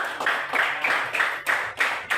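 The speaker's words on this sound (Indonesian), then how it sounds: "Tepuk tangan dulu untuk dua orang temanmu" A school class claps hands together in a quick, evenly spaced rhythm of about seven sharp claps in a little over two seconds. The claps are close and fairly loud, with no talking.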